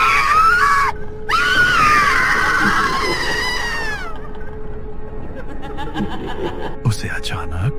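Loud, shrill screams used as a horror story sound effect, rising and wavering for about four seconds before trailing off into fainter eerie noises.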